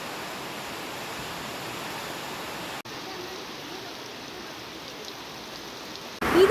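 Steady rain pours down outside a plant nursery after a sudden shower, a dense, even hiss of drops on surfaces that carries on throughout with a brief break and a louder burst at the very end.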